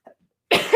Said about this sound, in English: I have like a popcorn stuck in my throat or something. I don't know what it is, but I keep coughing.